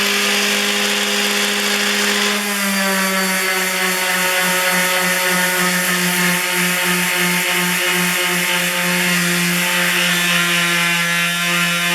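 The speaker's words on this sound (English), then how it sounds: "you can just sand it off." Power sander working across wood to remove an image transfer, a steady close motor whine with buzzing overtones that shifts to a lower, rougher pitch after a couple of seconds and runs continuously, no voices.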